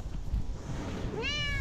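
A young cat meows once, a short rising and falling call late in the moment, close and clear over faint outdoor background noise.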